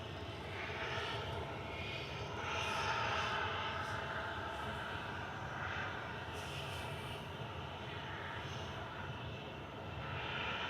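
An Airbus A350-900 bound from Singapore to Houston taxis out at Manchester Airport, a steady distant engine roar and whine heard from outdoors, with faint talk and ambient noise.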